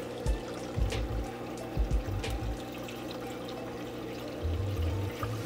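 Water is poured to rinse a coral frag before it goes into a reef tank, heard as intermittent close gurgling pours with bubbly splashes and quieter trickling between them.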